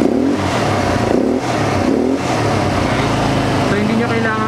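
ATV engine revving as its accelerator is pressed, a loud, steady mid-pitched engine roar held close by, with brief dips in the throttle; voices talk over it.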